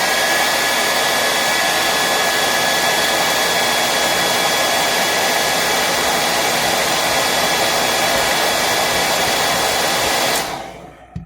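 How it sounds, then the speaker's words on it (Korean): A hair dryer blows hot air onto Galaxy Z Fold 4 phone parts, a loud, steady, unbroken whoosh for about ten seconds before it cuts off abruptly. "드라이기로"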